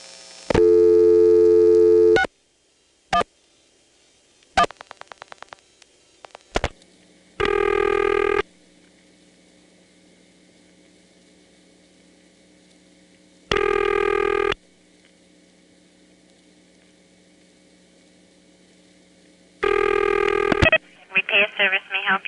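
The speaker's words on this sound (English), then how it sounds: "Here's a composite illustrating what it was like to call repair service in 1973 from a touch-tone phone in Occoquan" A 1973 touch-tone call to repair service routed through a Stromberg XY step switch in Occoquan: a loud tone, then relay clicks and stepping clatter, followed by three spaced ringback bursts and a final garbled tone.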